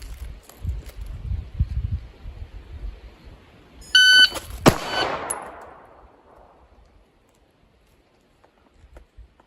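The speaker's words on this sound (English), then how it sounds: "I'm really going to work on my reaction to the beep" A shot timer sounds a short, sharp start beep at a live-fire range during a drill, followed at once by a loud gunshot from a gun fired at a milk-bottle-sized target, then quiet.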